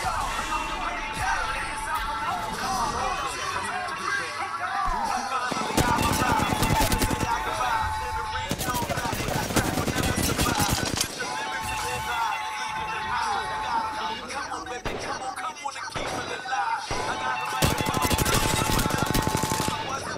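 Shooter video game gunfire with rapid automatic bursts and single shots crackling steadily throughout, mixed with game sounds while players talk over it.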